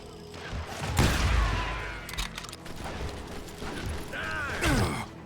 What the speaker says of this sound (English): Right, who's shooting at me?